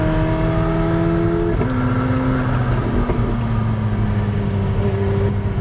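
A McLaren 750S Spider engine accelerates hard, a loud, continuous rising drone with a brief dip as it shifts gear partway through, heard without any talking.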